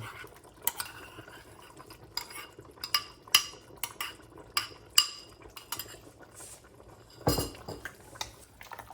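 A spoon scrapes and clinks against a cooking pot as a cream and flour mixture is stirred into softened cabbage for segedin goulash, with irregular knocks and light scraping repeating throughout, close and moderately loud.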